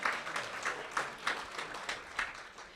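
Scattered, faint clapping from an audience in a crowded room at a Millbrae Lions community event. Separate claps fall at a loose, steady pace rather than in a full ovation.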